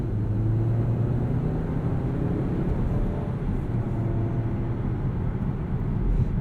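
Volvo XC40 T5 with a 2-liter turbo engine pulling on the road, a steady low drone and rumble of engine and road noise inside the cabin, with no talking.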